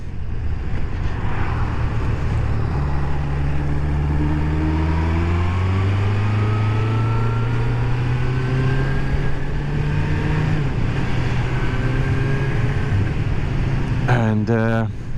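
A Kawasaki GPZ600R motorcycle engine drones steadily while riding after a rebuild, its pitch rising and falling through the gears under constant wind rush, with a brief clattering burst near the end.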